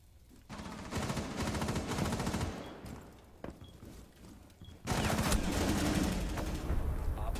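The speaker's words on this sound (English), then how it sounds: "Okay, I wall shot at her." Rapid bursts of automatic gunfire from a Rainbow Six Siege match, fired through a wall, come in two long strings of quick, loud shots separated by a short gap, with no voices heard.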